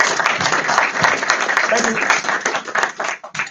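An audience at a machine learning meetup claps steadily for a few seconds, close and fairly loud, with a voice speaking over the applause as it tapers off.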